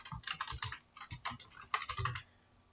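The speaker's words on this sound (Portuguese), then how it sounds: "quando eu digitar o nome aqui" Typing a name on a computer keyboard, a quick close run of light key clicks in short bursts, then a pause, with no voices.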